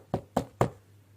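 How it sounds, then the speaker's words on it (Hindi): Three sharp knocks on a house door, evenly spaced and close, each rapping quickly after the last, then quiet. "अगली सुबह उनके घर का कोई दरवाजा खटखटाता है।"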